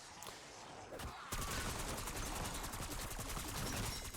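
Rapid, dense gunfire in a zombie shooter video game, fired at a large enemy, runs continuously and loud throughout, with volleys of shots layered over game ambience.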